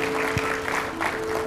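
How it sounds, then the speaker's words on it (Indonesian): Applause from a church congregation during a sermon, a moderate wash of clapping spread through the room, with a steady tone humming underneath throughout. "Tepuk tangan buat Tuhan kita ya."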